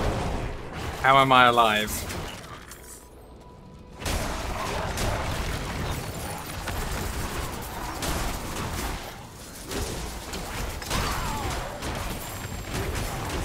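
Bombs explode in the Diablo 4 video game: heavy booming blasts and crashing rumble build up throughout while a player talks over the action.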